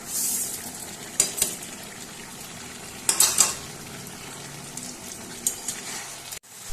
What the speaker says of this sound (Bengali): নারকেলটা দেওয়ার পর খুব ভালোভাবে নাড়াচাড়া করে নিয়েছি